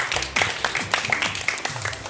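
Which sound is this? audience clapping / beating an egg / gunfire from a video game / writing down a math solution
audience clapping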